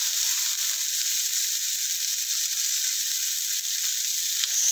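Garlic, onions, lemongrass and tomato sizzle in a pot for pork nilaga soup, a steady close crackling hiss of frying with no speech.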